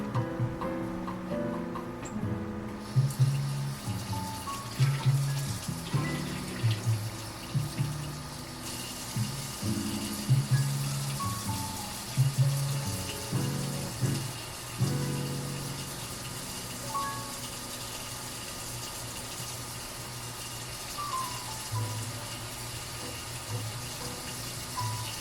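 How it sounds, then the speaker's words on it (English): Room-temperature tap water runs into a Nissin Top Ramen Shrimp Flavor instant noodle bowl, a steady splashing gush with gurgling shifts in pitch as the level rises, heard alone and close for about twenty-five seconds. "And now you want room temperature water up to this little line in here."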